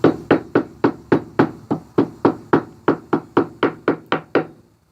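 A mallet striking the tapered edges of a wooden knob in a steady run of about fifteen sharp, evenly spaced knocks, close and clear with short decays, the last few softening before stopping.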